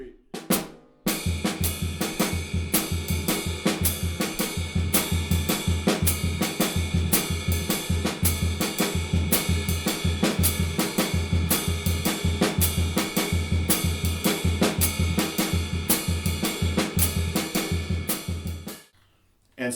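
Drum kit syncopation exercise with the bass drum filling in the gaps: a brisk, steady groove of kick, snare and bright cymbal hits played close and loud for nearly twenty seconds, then stopping.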